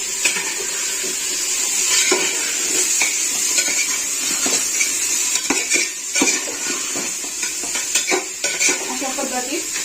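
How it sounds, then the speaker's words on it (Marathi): Capsicum and tomato being stirred together in a sizzling pan, a steady close hiss of frying with repeated scraping and clinking of a metal utensil against the pan throughout. "ढोबळी मिरची पण परत सोबतच ही टोमॅटो पण आता परत मारली सगळं मिक्स करून घ्यायचं आपल्याला"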